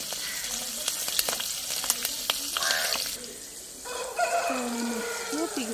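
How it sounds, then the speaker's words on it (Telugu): Curry leaves and green chillies frying in hot oil for a garnish, a steady close sizzle with brief crackles, joined by a rooster crowing and fowl calls in the background. "కరివేపాకు, పచ్చిమిరపకాయలు వేసుకోవాలండి, బాగా ఫ్రై చేసుకోవాలి గార్నిష్ కోసం"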